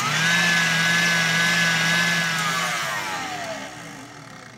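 An electric mixer whisks egg whites toward stiff peaks, a loud close whirring hum whose pitch wavers and then drops as the motor slows, fading near the end.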